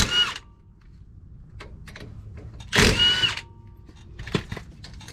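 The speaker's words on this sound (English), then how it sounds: "I'm just going to use this little Milwaukee mid-torque impact 3/8 drive with a 14 millimeter socket" Milwaukee mid-torque 3/8-inch drive 2960 impact wrench with a 14 mm socket removing brake caliper bolts on a 2004 Nissan Armada, giving a short burst, a longer loud rattling run, then another brief one amid quiet workshop background.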